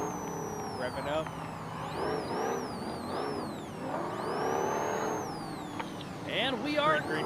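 Ultra 4 off-road race cars rev their engines at the start line of a Prairie City race, a loud, rising and falling mechanical roar that keeps going throughout under excited commentary and crowd noise.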